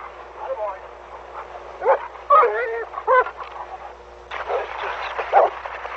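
A dog yips, whimpers and barks in short bursts close by, mixed in with people talking near a lake in a national park, an outboard boat's steady drone running underneath throughout.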